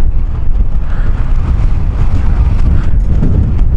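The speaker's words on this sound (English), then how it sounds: "That's how windy it is." Strong wind buffets a camera microphone outdoors, a loud continuous low rumble with gusty fluctuations filling the whole stretch and no clear talk.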